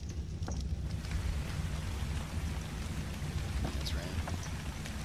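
Continuous rain patter inside a hut in Ark: Survival Evolved, with a low rumbling bed and a few sharper drop-like clicks scattered through, steady and fairly close.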